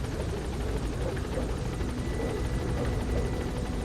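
A helicopter in the Metal Gear Solid V game gives off a steady, loud rotor drone that holds an even level throughout, with no voices over it.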